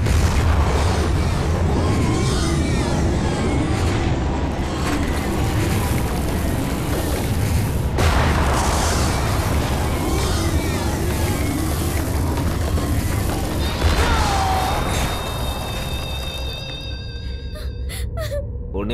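Bomb blasts in a Hindi-dubbed action movie scene, a dense, loud and continuous booming rumble that runs throughout with a sharp jolt near the middle, thinning toward the end.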